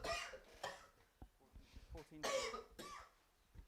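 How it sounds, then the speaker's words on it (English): Coughing at a live darts event, several short harsh bursts in quick succession with breathy gaps between them, close and fairly quiet. "You just made me cough"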